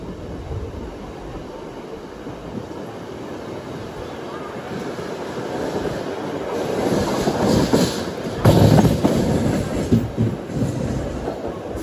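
Rajahmundry to Visakhapatnam MEMU train running on rails near Samalkot Junction, a steady rumble of wheels with clickety-clack beats building louder and some brief wheel squeal.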